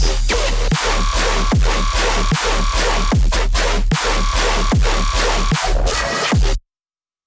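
Loud, crunchy distorted dubstep bass through a mastering chain pounds along with chugging stabs and drum hits, sounding harsh and saturated before cutting off abruptly.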